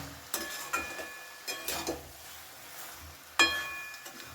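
A spoon stirs cabbage curry topped with fresh coriander leaves in a pan, making several distinct scraping strokes against the metal over a soft, steady sizzle, heard close and without talk.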